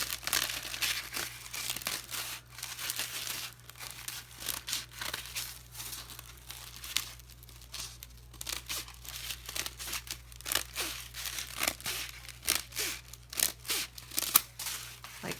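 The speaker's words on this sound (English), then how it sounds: "And I'm just going to cut out more hearts." Scissors cut paper hearts up close, giving a steady series of crisp snips and rustling crinkles of paper in uneven rhythm over a low background hum.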